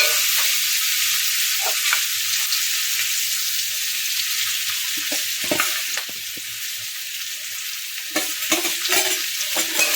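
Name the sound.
stirring green chillies and sugar frying in pumpkin prawn curry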